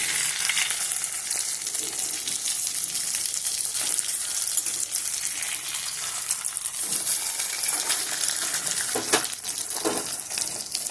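Stuffed flat beans fry in oil under a lid, a loud, constant crackling sizzle with scattered pops and a few faint clinks, no voices.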